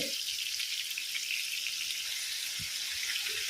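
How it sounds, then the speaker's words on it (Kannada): Squid bondas fry gently in oil on a low flame, giving a soft, continuous crackling sizzle that stays quiet and close without any talk. "ಲೋ ಫ್ಲೇಮಲ್ಲಿ ಸ್ವಲ್ಪ ಫ್ರೈ ಆಗಲಿ."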